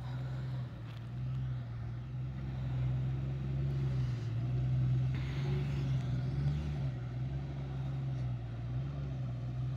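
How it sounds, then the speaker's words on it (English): An oncoming vehicle crawls along a steep, rocky desert track in Namibia's Kaokoveld, a low, steady engine drone that swells gently and fades, heard at moderate distance with no talk. "there was an oncoming vehicle"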